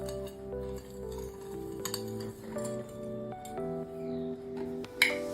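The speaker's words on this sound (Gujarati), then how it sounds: "ચાર ચમચી ખાંડ ઉમેરી લઈશું અને સરસ રીતે એને મિક્સ કરી લઈશું" A spoon stirs four spoonfuls of sugar into warm milk in a pot, giving repeated metallic clinks and scrapes with short tonal rings, close and clear, ending in a sharper clink, no talk.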